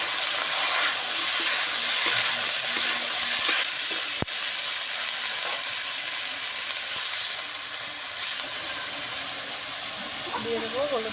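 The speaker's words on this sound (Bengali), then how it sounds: "তেল গরম হয়ে গেছে, এবার দিয়ে দেবো চিচিঙ্গাগুলো" Snake gourd dropped into hot mustard-oil with five-spice tempering, left over from frying fish, sizzling loudly and steadily close by, with a sharp clatter of stirring partway through and a faint voice near the end.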